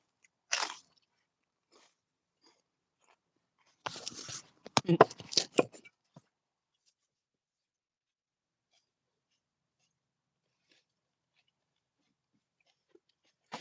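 Raw vegetables are bitten and chewed up close in a quiet room, a sharp crunch followed a few seconds later by a cluster of wet crunching chews, then silence.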